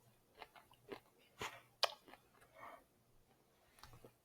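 Someone bites and chews a piece of vegan energy bark made with roasted nuts, sesame, sunflower and pumpkin seeds bound with maple syrup, producing soft, close crunches and scattered sharp bites at low volume, without speech.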